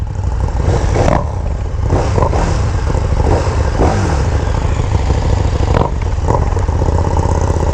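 A loud 2018 KTM 1290 Super Duke GT engine runs close by, its stock exhaust rumbling steadily with a few sharp revs.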